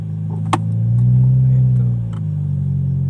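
A manual car on a hill start pulls away uphill as the brake is released, its engine droning low at idle before swelling into a louder, steady strain and easing off again, close by.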